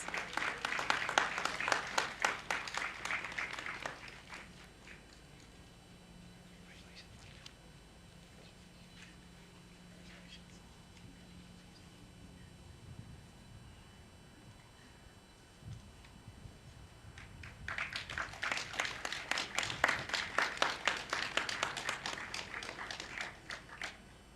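Audience applauding at a university graduation ceremony on the Griffin campus, two bursts of clapping separated by a quieter gap with faint speech over a microphone.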